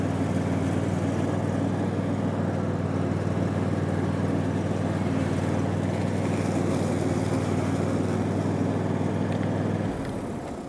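A Caiman Rapido Max Eco garden tractor mows while reversing through thick growth, its engine droning loud and steady for about ten seconds before easing off at the end.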